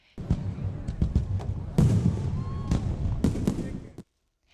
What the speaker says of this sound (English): The city is hosting a fireworks show that'll be bigger than last year.